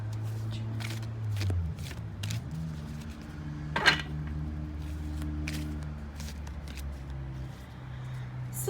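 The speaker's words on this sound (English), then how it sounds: "I don't think it's going to be difficult to shuffle." A new indie tarot deck being shuffled by hand, crisp papery riffles and card slaps in short bursts over a low steady hum, close and clear, with one sharper clack midway.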